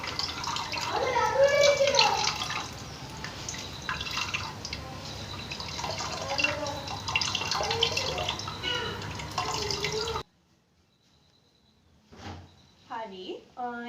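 Water being strained from grated tapioca pulp while making tapioca flour at home trickles and drips steadily into a vessel for several seconds, then stops, followed by a few brief clinks and a voice nearby.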